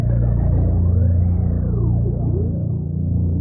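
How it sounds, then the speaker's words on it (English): A deep synthesized one-shot bass sample in FL Studio rumbles and sustains, with a swooping, sliding tone gliding over it before it fades slightly. "It's a one-shot bass that sounds like this."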